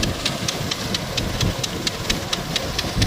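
A tractor engine runs steadily nearby with a trolley opener attached, a low chugging rumble with a regular ticking rattle on top.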